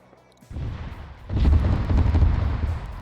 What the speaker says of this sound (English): let's watch this airstrike for a second